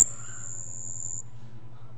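Australian crickets chirping at night: a single sustained high-pitched insect trill holds steadily for about a second before cutting off, over a low constant hum, with no other sounds.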